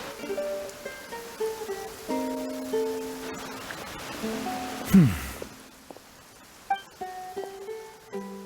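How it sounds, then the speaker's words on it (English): Rain in the video game Genshin Impact: a steady patter runs beneath soft melodic game music tones, with a brief rising whoosh near the middle and scattered chime-like notes afterwards. "I like the rain."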